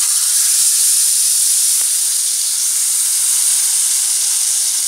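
Broth from pork chops sizzles and fries in a pan, a loud, continuous steamy hiss that holds steady throughout with no voices.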